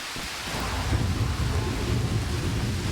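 Heavy rain and a deep rumble of thunder roll through a survival video game scene, a dense, steady downpour that swells after a brief quiet opening.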